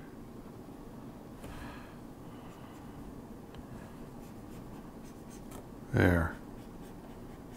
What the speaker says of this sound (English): I wanna do some drawing